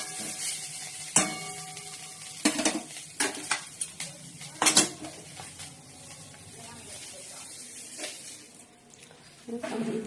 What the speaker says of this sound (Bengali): সয়াবিনটা ভেজে নিলাম লাল লাল করে দেবো।